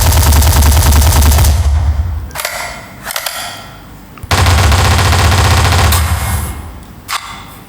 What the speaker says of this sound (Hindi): बराबर गोलियां चल रही हैं